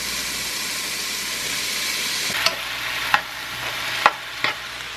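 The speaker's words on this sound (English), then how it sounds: "I've been cooking the mushrooms for a bit, and now it's time to add the zucchini" Mushrooms with freshly added zucchini frying in a pan, a steady broadband sizzle with a few sharp clicks and pops from stirring in the second half, close and alone with no talk.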